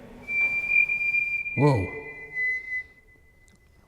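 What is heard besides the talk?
person whistling in an old barracks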